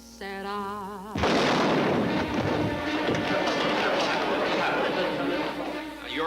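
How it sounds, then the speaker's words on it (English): A gunshot in a scene from the 1956 film The Man Who Knew Too Much: after a woman's singing, one sudden loud crack opens a dense, sustained wash of commotion and noise that carries through to the end. "That was a gunshot you heard"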